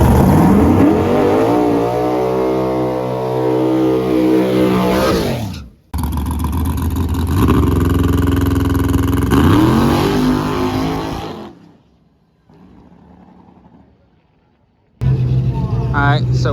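A turbocharged drag race car accelerates hard in a grudge race, roaring loudly and close in long rising pulls, with a brief gap, a quieter idle stretch, then the engine roaring again.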